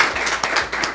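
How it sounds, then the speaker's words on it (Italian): Studio students clapping together in a short burst of applause, several sharp overlapping claps close by over about a second, with no talk. "Fatevi un bel applauso."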